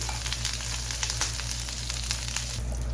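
Beef steak slices sizzle in corn or sunflower oil on a grill pan, a steady, close, loud frying hiss with crackly spits throughout and no speech.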